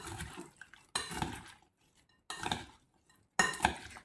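A spoon scrapes and stirs a hot, sticky rose des sables mixture in a pot, producing four separate bursts of clattering, scraping strokes with short quiet gaps between them.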